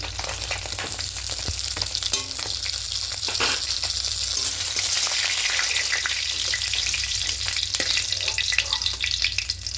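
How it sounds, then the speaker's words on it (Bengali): Pieces of katla fish deep-frying in hot oil for a Bengali kalia, a loud, steady sizzle and crackle running unbroken throughout with occasional sharper pops and spatters, no voices. "লাল করে ভেজে নিচ্ছি, তুলে নেব। একটু কড়া করে ভাজতে হবে।"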